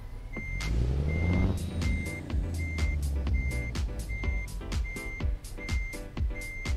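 A truck in American Truck Simulator backs up with a Prestige Lode King flatbed trailer, its reversing alarm beeping in a steady, evenly spaced rhythm over engine rumble and sharp clanks.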